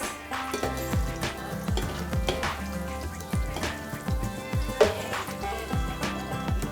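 Raisins fry in hot oil in a pan, giving a steady close sizzle with scattered crackles and pops throughout, with no voices.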